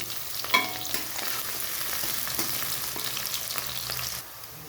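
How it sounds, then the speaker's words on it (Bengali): Onion and chopped garlic frying in mustard oil in a wok, a constant sizzle with scraping stirs and a clatter near the start, easing off slightly just before the end, no talking. "এখানে পেঁয়াজ আর রসুনটা ভাজা হয়ে গেছে"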